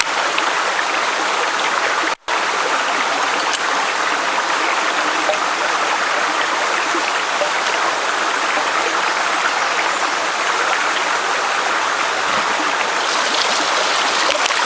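Water rushes steadily through a ram pump after a stuck valve is knocked loose, a loud continuous close-up flow with one brief cut in the sound early on.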